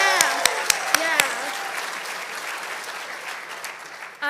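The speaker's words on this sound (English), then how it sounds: "So big round of applause for OMSA." Graduation ceremony audience applauding for OMSA, a dense sustained clapping from a large crowd with a few sharp louder claps near the start, continuing steadily throughout.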